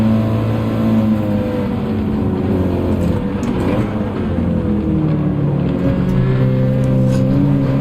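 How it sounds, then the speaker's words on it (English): An Audi race car in the Gran Turismo 7 racing game drones steadily at high revs, a loud continuous engine tone with slight pitch shifts as it accelerates, no talk over it. "Now you can hear my car."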